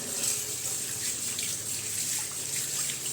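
Running water pours steadily from a tap as leaves are rinsed for a leaf curry, a continuous close splashing stream with no talk.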